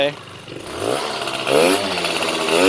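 Honda AF27 scooter with a stepped-up 44 mm piston and 1.8 stroke, being run in, revs up in two rising surges as the throttle is twisted partway, the engine note climbing and holding loud, with voices talking over it.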